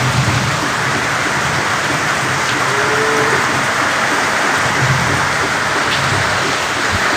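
Heavy rain pours down steadily outdoors, a loud, even roar of water falling without a break, with no voices heard.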